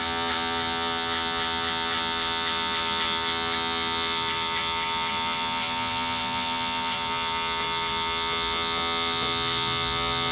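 Electric hair clippers run steadily with the lever open at one inch, cutting the first guideline of a fade on Hispanic hair; a close, continuous motor buzz with bright whine, alone and unbroken throughout.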